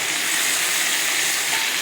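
Fish sizzles steadily in hot oil in a home kitchen pan, a dense, continuous hiss that stays even and fairly loud throughout with no voices over it.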